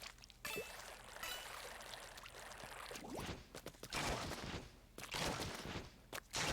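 A Flingza Roller flings ink in the Splatoon 2 video game: bursts of splashy, gushing shots and wet sprays arrive in uneven clusters with short gaps between them, with no talking.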